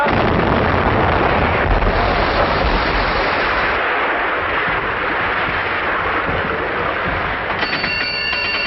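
Artillery guns fire in a 1937 film, a dense, roaring barrage of blasts that fills the scene loudly and continuously, fading toward a rumbling tail.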